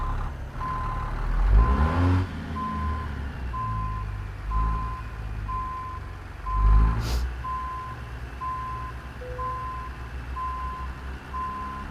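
A Peterbilt 359 truck in a trucking simulator sounds a steady reversing beeper, evenly spaced tones repeating throughout over a low diesel rumble, with a couple of louder engine or air-brake surges.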